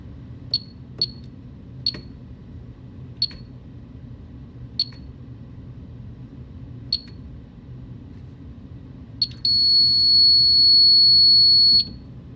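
A superyacht's fire alarm panel in zone test mode sounds a pre-alarm during a smoke detector test: sharp, sparse electronic beeps spaced a second or more apart, then a loud continuous buzzer tone for a few seconds over a low room hum.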